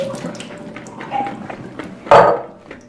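Water splashes and trickles over soaked almonds being rinsed, with a short louder gush near the end among small clinks and drips.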